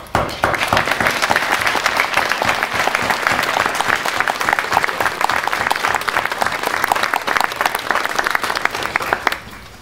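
A crowd applauds volunteers and workers at a local Calvary event in Čestice, a loud, continuous wash of clapping lasting nearly ten seconds before dropping off at the very end.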